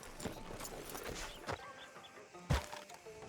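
Horse hooves clip-clop on a town street in Red Dead Redemption 2, a quiet, uneven series of knocking steps with a louder thud near the end.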